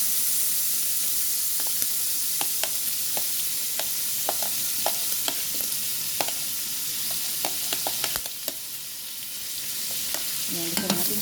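Garlic and onion sauté in a hot pan for pakbet, a steady bright sizzle with scattered pops and crackles and occasional stirring, close and continuous, with no talk.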